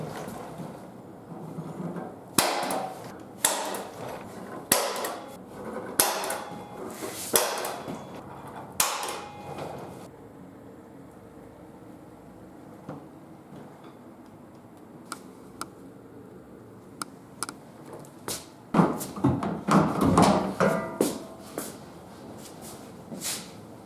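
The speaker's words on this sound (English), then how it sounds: "I'm just going to get in the line with a center punch. Punch them all out" A series of sharp metallic taps from a hammer striking a center punch into metal on a Jeep YJ rocker guard, about a dozen spaced strikes, some louder than others, with quieter handling noise between them.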